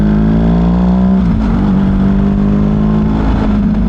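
Close motorcycle engine droning steadily with a rising then settling rev while riding through congested city traffic, continuous and loud with no talk.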